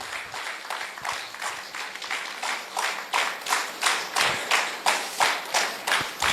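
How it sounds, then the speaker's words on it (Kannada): An audience at a live program in Belgaum applauds, a steady, rhythmic round of clapping from many hands that swells slightly and carries on for several seconds without any talk. "ಚಪ್ಪಾಳೆ."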